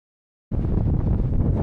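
Strong wind buffets a microphone outdoors, starting abruptly after half a second of silence and then roaring loud and continuous with no talk.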